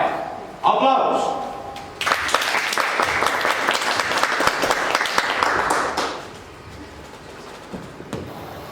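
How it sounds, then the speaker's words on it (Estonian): An audience bursts into loud, dense applause at a live Estonian song performance, holding steady for about four seconds before fading into a quieter room with scattered claps. "Aplaus!"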